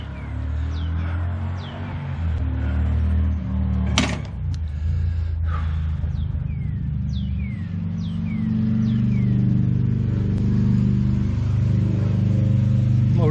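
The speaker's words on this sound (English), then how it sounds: "Motorcycle sounding nice." A motorcycle engine idles and revs close by, a steady loud rumble with swelling throttle pulls and a sharp knock partway through.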